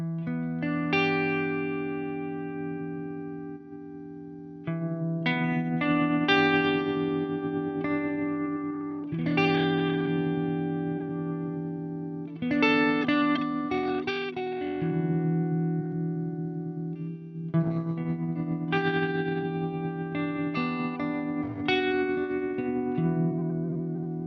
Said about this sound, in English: It sounds like interference to your signal